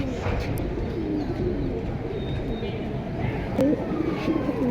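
Caged pigeons of a top-quality breeding collection coo in repeated rolling calls close by, over a steady background hum, with people talking nearby.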